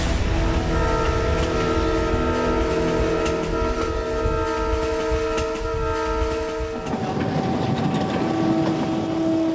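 A train in India rumbles along steadily with a long sustained horn blaring over the clatter of the cars, the tone shifting partway through.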